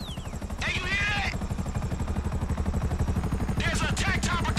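Steady low rhythmic thumping of attack helicopter rotors in Grand Theft Auto 5 runs throughout, with bursts of warbling electronic game sounds above and a voice talking briefly.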